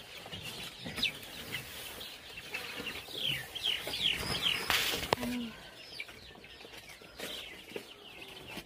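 Local farm chickens cluck and call in a small, busy flock at close range, a steady run of short clucks with a brief flutter of wings partway through and no talking.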